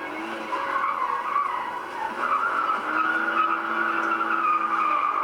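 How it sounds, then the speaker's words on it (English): A car skids under hard throttle on a driving course, its tires squealing in a loud, continuous smear with the engine straining underneath, no talking. "Craig guns the gas so hard that he can't even stay on the course"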